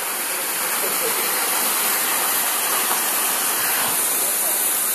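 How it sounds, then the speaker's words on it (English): A small waterfall at the Gokarna water tank in Karnataka, India, pours in a loud, continuous, broad rushing hiss that stays constant with nothing else standing out. "So the Gokarna water tank, and it's got a little waterfall as well, look."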